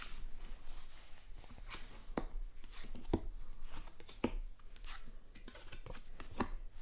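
A deck of playing cards is shuffled at a blackjack table, giving a series of soft riffling and tapping bursts with sharp clicks at intervals, close and fairly quiet with no talk.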